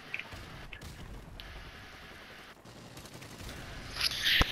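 Rapid bursts of gunfire crackle in the distance, with sharper, louder shots near the end over a steady background hiss.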